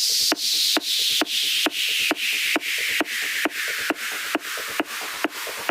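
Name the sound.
white noise synth sound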